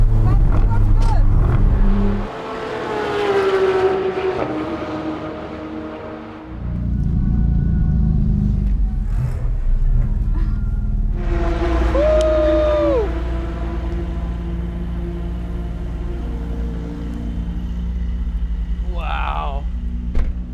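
A car driving fast, with a loud steady engine and road rumble that rises and falls as it accelerates, heard from inside the vehicle.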